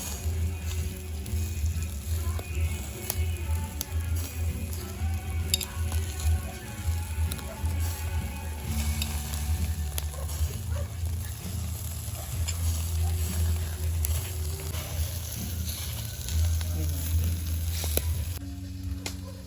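Fried rice sizzling in chicken oil over a low, steady hum, with soft crackles and a few sharp ticks; a voice talks intermittently over it.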